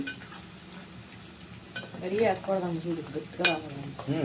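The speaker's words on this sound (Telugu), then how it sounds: "ముక్క అయితే కొంచెం రోస్ట్ అవుతుంది." Chicken pieces roast in a pan with ginger paste, giving a steady sizzle and frying hiss with occasional stirring clinks and scrapes near the microphone, quiet at first and then louder through the second half.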